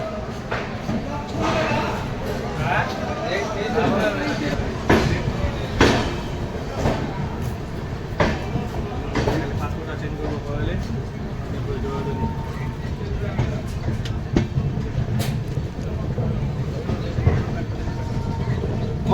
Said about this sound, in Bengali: ফাইনালি শিয়ালদা স্টেশনের 12 নম্বর প্ল্যাটফর্ম থেকে ট্রেন বেরিয়ে যাচ্ছে।